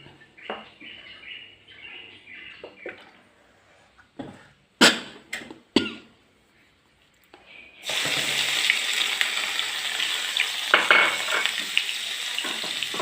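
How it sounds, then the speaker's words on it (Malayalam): Crushed coconut roasting in coconut oil, preceded by a few knocks and clatters of utensils, then a loud, continuous sizzle that fills the second half of the clip without any talk. "അത് ഞാൻ ഇത്തിരി വെളിച്ചെണ്ണ ഒഴിച്ച് ഒന്ന് മൊരിയിച്ചെടുക്കുന്നുണ്ട്"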